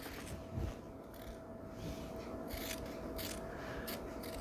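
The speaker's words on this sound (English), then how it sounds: "So we'll just cut these in half." Scissors cut through small quilt fabric pieces, producing a steady close rasping snip and scrape that continues for a few seconds with no voices.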